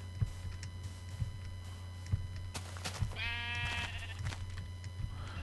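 A single video game sheep bleats clearly over a steady low hum, with faint clicks and taps around it.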